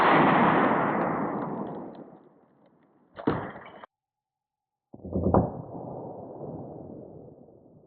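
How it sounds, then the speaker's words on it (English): A single M193 rifle round fired from a 16-inch Geissele Border Patrol rifle into a lightweight Level IV ceramic armor plate cracks out sharply, followed by a short clatter and a fading rumble of noise. "We have some M193 out of the 16-inch Geissele Border Patrol rifle"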